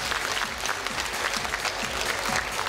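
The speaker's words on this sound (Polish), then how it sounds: "Jeszcze raz ogromne brawa dla nich wszystkich." Audience applause at a modern dance championship, continuous even clapping from a crowd filling the whole moment, no speech over it.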